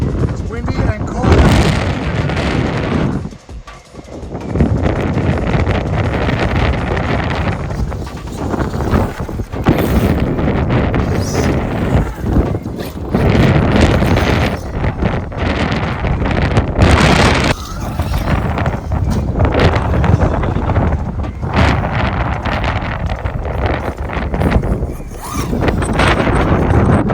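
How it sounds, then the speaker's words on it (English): Cold, strong wind buffeting a microphone outdoors at an RC car run, a loud continuous roaring rumble with gusts that briefly drop and surge. "It's windy and cold."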